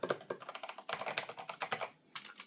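Keys clatter in quick irregular bursts on a Commodore C64 Ultimate keyboard, close and clear, with a short pause before a final flurry of keystrokes.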